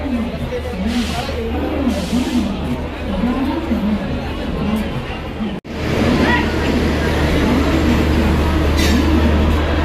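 Passenger train 12566 arrives at a station platform with a steady loud rumble and rolling clatter of coaches, a crowd chattering throughout and a brief break midway.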